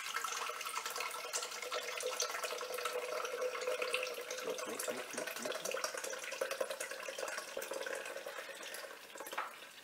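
Evaporated milk poured from a freshly opened can into a container while making a chocolate coffee creamer, a steady liquid splashing and trickling that runs close and continuous for about ten seconds.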